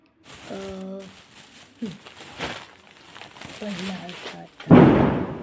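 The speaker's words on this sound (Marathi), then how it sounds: "बाई काय फटाके फोडताय" Muffled voices and rustling, then a single sharp, loud firecracker bang near the end during Tulsi Vivah festivities that decays into a rumbling tail.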